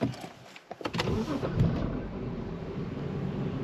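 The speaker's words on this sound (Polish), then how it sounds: "Odpalamy auto." BMW 523i E60 with the N53 engine starting up: a few short clicks and a brief cranking burst, then the engine settles into a steady, even idle close by.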